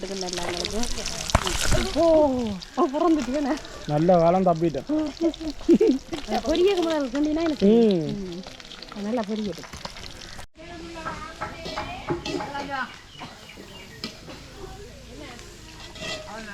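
Fish fries in a pan in a village kitchen with a steady bubbling sizzle running throughout, while people talk loudly over it for most of the time.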